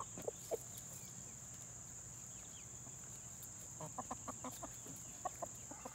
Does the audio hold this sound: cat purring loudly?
no